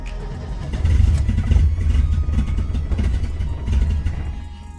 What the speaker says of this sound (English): Misfiring